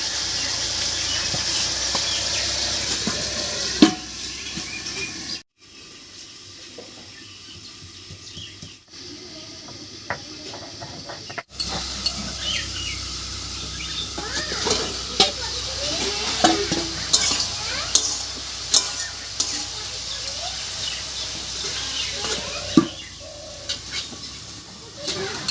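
Cauliflower, potato and paneer curry with salt and turmeric sizzling and being stirred in a pan, a steady hiss with scraping stir strokes, briefly quieter when covered, close and fairly soft throughout.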